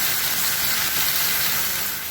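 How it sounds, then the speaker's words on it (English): Curried chicken back cooks in a covered pot, giving a continuous soft steamy hiss and sizzle that holds evenly throughout. "I'm gonna cover it and let it steam."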